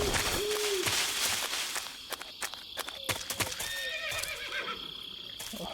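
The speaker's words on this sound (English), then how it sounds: "A horse." A horse whinnies in Metal Gear Solid 3, a clear rising neigh near the start followed by hoof clip-clops and rustling footsteps over soft game ambience.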